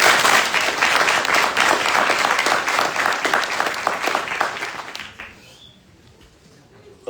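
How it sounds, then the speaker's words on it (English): A graduation crowd applauds drill sergeant awardees with a full burst of clapping that carries strongly for about five seconds, then drops away abruptly into near silence. "Please join me in a round of applause for the awardees."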